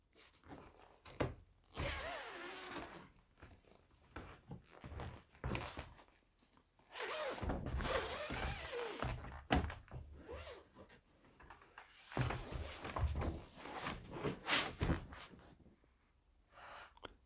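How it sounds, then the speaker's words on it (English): Zipper teeth rasp in long drawn pulls as the cover of a Purple Hybrid Premier mattress is unzipped, close and fairly quiet, broken by short pauses and handling rustles. "I'm actually just going to unzip this whole thing to take a closer look of the inside"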